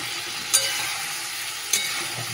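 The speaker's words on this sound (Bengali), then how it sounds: "এই যে মশলা আর বেগুন তো ভালো করে এখানে কষিয়ে নিলাম" Spice paste and whole eggplants fry in a pan with a steady, even sizzle close by, broken by two brief sharp clicks.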